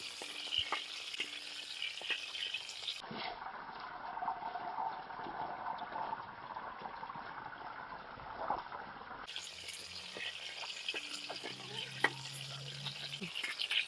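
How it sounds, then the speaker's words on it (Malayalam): Onions and tomatoes sizzle steadily in hot oil, a constant crackling fry with occasional stirring clinks, heard close up without talk. "തക്കാളി ഉള്ളിയൊക്കെ നല്ലതുപോലെ ഒന്ന് വെന്ത് എണ്ണയിൽ കിടന്ന് വേവട്ടെ"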